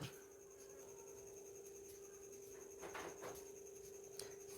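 Pen or chalk scratches softly as a maths solution is written out by hand, a faint continuous scribble with a few slightly louder strokes near the end and a steady background hum.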